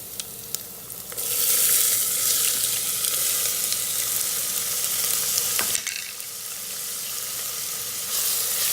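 Finely chopped onion hits hot oil in an Instant Pot and sizzles loudly and steadily for most of the time, with a brief dip near the end before the frying resumes.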